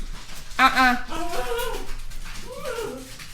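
A puppy whimpering in high, drawn-out whines, close by and mixed with a person talking over it.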